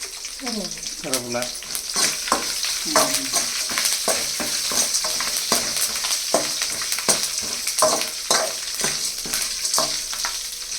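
Green chillies sizzle in hot oil in a pan while a spoon scrapes and stirs them in repeated knocks, a steady bright hiss running under the clatter at close range.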